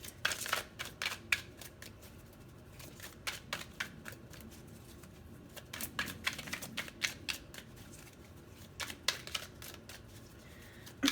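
Tarot cards being shuffled by hand in a quiet room, a steady run of crisp riffling flutters and soft slaps repeating through the whole stretch, close and clear with no talking.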